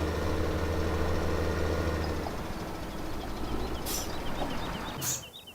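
In Farming Simulator 17, a tractor engine idles with a steady, heavy low drone that fades after a couple of seconds, leaving quieter outdoor ambience with a few bird chirps.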